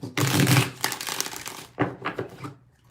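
Cards being shuffled for a tarot-style reading, a few quick riffling and rustling bursts close by, with short pauses between shuffles.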